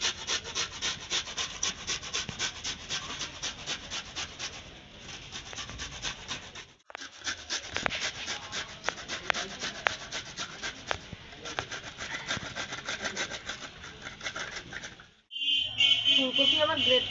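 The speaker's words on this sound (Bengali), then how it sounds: "গ্রেটারের সাহায্যে ফুলকপিগুলোকে গ্রেট করে নেব" Boiled cauliflower rubbed across a kitchen grater in a steady run of rasping, scraping strokes, close and fairly loud, pausing briefly midway and near the end.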